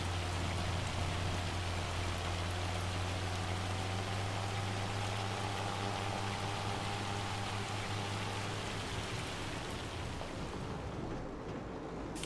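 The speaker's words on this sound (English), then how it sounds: "Seems like the hail's letting up a little bit, but hasn't quite stopped." Hail clatters steadily down in Farming Simulator 25, a dense, even hiss of pelting ice over a low engine-like drone that eases slightly toward the end, with no one talking.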